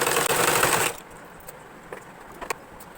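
A sewing machine stitches a folded fabric hem for a silk pattupavada skirt. It gives a loud, rapid whirring burst of about a second, then stops, leaving quiet room tone with a few faint clicks.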